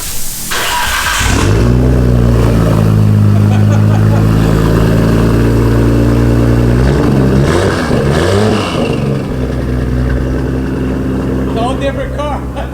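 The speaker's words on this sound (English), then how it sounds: "you haven't heard it with the new exhaust" A Nissan R34 Skyline with a new exhaust and turbos starts with a sharp crank, then settles into a loud, deep idle with throaty revs rising and falling midway, all up close.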